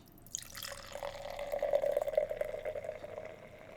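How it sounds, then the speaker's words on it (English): Harpoon Christmas ale, a Belgian-style beer, is poured slowly into a tulip glass, giving a steady foamy gurgle and trickle that builds over several seconds, close and moderately loud, with no speech. "we'll get into the theatrics of a 20-second pour."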